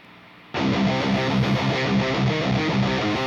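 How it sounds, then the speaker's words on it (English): A heavily distorted electric guitar kicks in abruptly and chugs through a loud, driving riff, playing alone. "if I just solo these two tracks and I play this, you should hear guitar tone"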